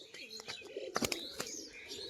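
A roller pigeon coos softly in short, uneven bursts, with faint chirps and a few sharp flutters or knocks close by. No other sound intrudes.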